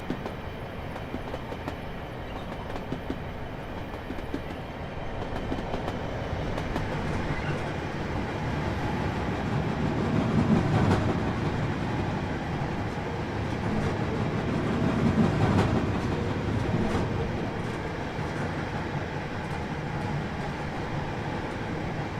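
A Train Simulator Classic freight train hauling 20- and 40-foot containers on the 4E24 Thamesport to Leeds run, heard as a steady, close rolling rumble with faint rail clatter that swells slightly twice before settling, with no talk.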